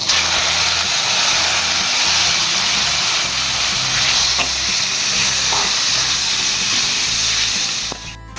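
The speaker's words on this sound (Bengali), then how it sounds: "তো চিকেনটাকে আমি ভেজে নিচ্ছি" Marinated chicken frying in hot oil in a home kitchen, a steady loud sizzle and hiss running unbroken throughout, with a brief clatter near the end.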